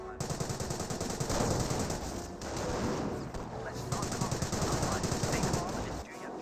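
Rapid bursts of MG42 machine gun fire in Company of Heroes rattle over a dense battlefield din of gunfire and explosions, loud and continuous with short pauses between volleys.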